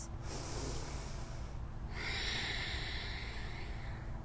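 Deep, slow breaths during an outdoor yoga flow on a field, close and airy, with a breathy exhale followed by a long hissing inhale.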